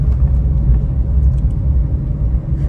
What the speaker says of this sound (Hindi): ये गाड़ी मेरी मूव हो गई पूरी, अभी मैंने पूरा क्लच नहीं छोड़ा, अब छोड़ा मैंने पूरा क्लच